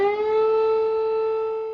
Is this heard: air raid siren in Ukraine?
yes